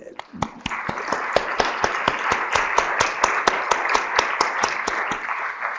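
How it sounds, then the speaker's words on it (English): An audience at a public meeting on hemophilia drug development gives a round of applause, with crisp, closely spaced claps ringing out steadily over a broad wash of clapping for several seconds before it tapers off. "let's give a round of applause"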